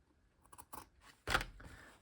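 Scissors snipping fraying material, several quiet close snips followed by one louder crisp cut, with no voices.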